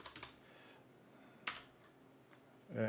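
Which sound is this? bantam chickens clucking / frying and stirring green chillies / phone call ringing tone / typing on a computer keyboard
typing on a computer keyboard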